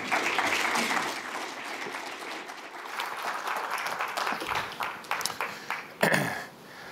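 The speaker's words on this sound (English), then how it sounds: "Thank you for your applause" Audience applause at an entrepreneurship lecture on B2B sales, dense continuous clapping from a seated crowd that thins into scattered individual claps toward the end, with a sharp knock near the close.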